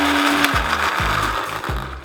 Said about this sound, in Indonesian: Pertama kita mau blender dulu bawang-bawangannya dan kemirinya